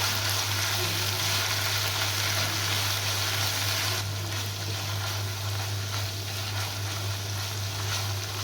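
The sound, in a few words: ground spice paste frying in pan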